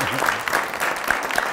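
An audience at an event on artificial intelligence and employees applauds in a steady, continuous patter of clapping, moderately loud and even throughout.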